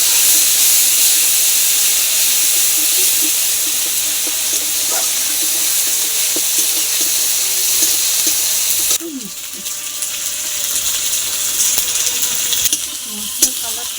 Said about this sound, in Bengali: শুকনো লঙ্কা, ধনে, গোটা ধনে, গোটা জিরে, আদা বাটাটা ভালো করে আমি কষিয়ে নেব